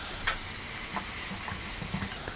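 Onions and tomatoes frying in a pan with salt, stirred by a spoon. A steady low sizzle runs throughout, and a few soft scraping strokes come at irregular intervals. No one speaks.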